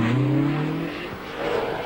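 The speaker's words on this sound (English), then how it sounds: "Pond's TR7 starts the 2nd loop" A 1978 Triumph TR7 rally car, around 300 horsepower, on a British Open Rally Championship stage, its engine note rising and holding before dropping away, loud and close for a brief pass.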